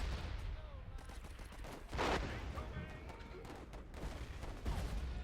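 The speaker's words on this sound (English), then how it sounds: "they are unleashing devastating fire against us" Sustained volleys of rifle and machine-gun fire in a WW1 video game trench assault, dense overlapping shots with one loud burst near the middle, steady battle din throughout.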